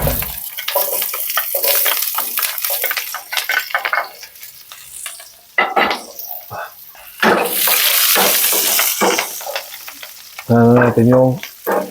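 Chopped onions sautéing in a pan for chicken asado, a broad steady sizzle with intermittent stirring and utensil scrapes. Loudness shifts as ingredients move, with a brief tonal clatter near the end.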